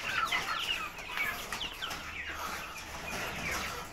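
Indio Gigante hens cluck and murmur softly in a coop, with short overlapping calls scattered throughout against a faint background hiss.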